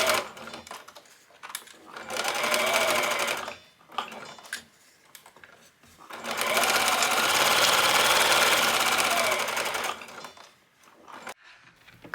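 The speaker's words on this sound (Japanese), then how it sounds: "表ポケットと裏ポケットを中表で返し口を残してぐるりと縫おう。" A sewing machine stitches around paired suit pockets placed right sides together, running in two long steady bursts with a brief short run between, close and loud with quiet gaps.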